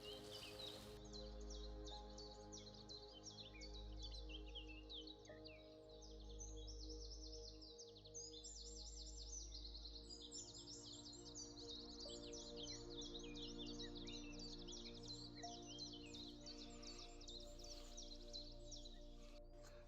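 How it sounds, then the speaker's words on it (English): Many birds sing and call together on a morning in Norway, a dense overlapping chorus of bright chirps and trills near and far, steady throughout with no talking. "enjoy the sounds of all these birds"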